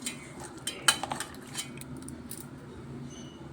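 Fish roe is mashed with egg and gram flour into a batter for fritters, giving faint, scattered clinks and scrapes of utensils against a bowl over a quiet background.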